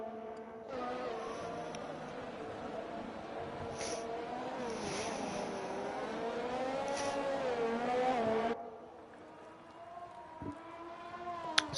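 A Formula 3 race car in a PS Vitesse Netherlands round holds a steady, rising engine whine as it powers out of a big turn toward full throttle, then drops away into a quieter tone near the end.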